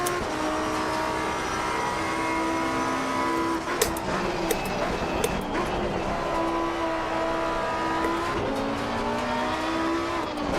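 Race cars in Assetto Corsa Competizione on console, engines roaring steadily with rising and falling gear pitches, tire squeal and sharp impact clicks over a dense, continuous mix.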